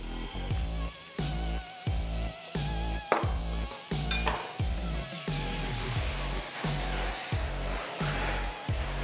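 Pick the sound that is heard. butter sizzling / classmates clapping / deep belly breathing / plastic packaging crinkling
butter sizzling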